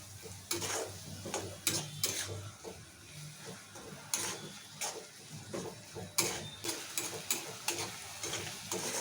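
Onions fry in a pan for a chicken curry, with a low sizzle broken by frequent sharp scrapes and clacks of a spoon stirring against the pan.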